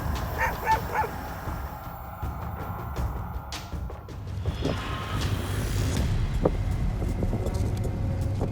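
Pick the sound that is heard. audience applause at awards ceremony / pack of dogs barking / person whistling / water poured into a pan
pack of dogs barking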